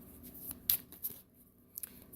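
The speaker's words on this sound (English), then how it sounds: "All right, so let me shuffle this up" Soft, brief riffling and snapping of tarot cards being shuffled, a few quick flicks close by with quiet pauses between.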